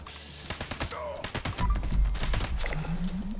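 Rapid bursts of gunfire in the video game Fallout 76 as a target is sprayed with bullets, a quick rattling string of shots followed by a heavier rumbling impact and lingering game noise.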